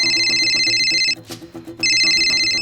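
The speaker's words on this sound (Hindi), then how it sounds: "फोन उठा उसका।" A mobile phone ringtone plays loud and close, a bright repeating electronic melody that breaks off briefly and then resumes, over a steady low musical background.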